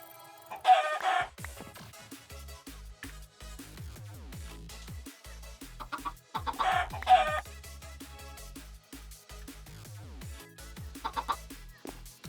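Chickens cluck and crow in the Modern Skyblock 3 video game, with several bursts of fowl calls recurring across the stretch at moderate loudness.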